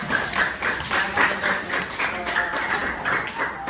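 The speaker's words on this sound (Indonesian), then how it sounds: "tepuk tangan buat Gibran" A school class of seventh graders claps for Gibran, a loose, uneven patter of hands with some voices mixed in, fairly close and moderately loud.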